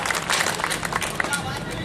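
A crowd applauds at a Hindi humorous poetry recital (kavi sammelan), a dense, steady wash of many hands clapping with scattered sharper claps throughout, no voices standing out.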